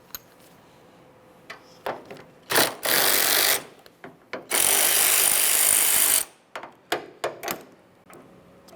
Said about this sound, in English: Now let's remove the next bolt holding the hinge to the body of the vehicle.